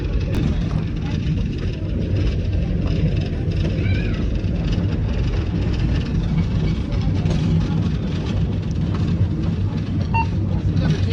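A steady, loud rumble of a steam locomotive running along the tracks, continuous low churning noise with faint squeals and voices in the background.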